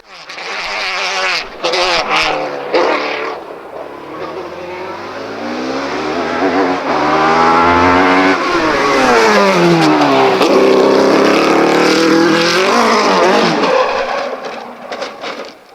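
A Formula 1-powered Gould hillclimb race car screams up through the gears on a hillclimb course, engine pitch rising and falling in loud, close revving sweeps.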